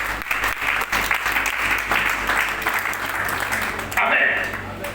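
A church congregation at an evangelical service applauding, sustained dense clapping from many hands that fills the room steadily and tails off abruptly near the end.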